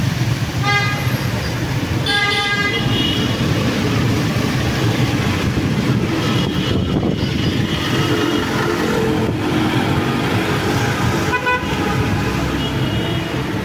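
Busy street traffic in Mirpur, Dhaka: a steady, dense roar of vehicles with several short horn toots near the start and more honks scattered through the din.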